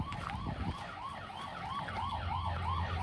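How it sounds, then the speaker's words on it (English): A wailing alarm siren rises and falls repeatedly in a fast cycle, fairly faint against a noisy background with a low rumble, no speech. "You're making your alarm go off"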